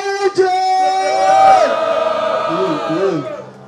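At a Brazilian street rap battle, the Roda Cultural da Rocinha, a crowd yells and shouts loudly in a sustained, rising roar, with whoops and voices bending at the end, close and dense.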